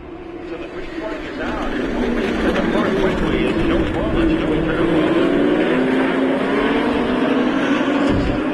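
US Legend race cars pulling away at the green flag at Stafford Motor Speedway, a pack of engines rising in pitch and blending into a loud, sustained roar as the field accelerates, with a commentator talking over it.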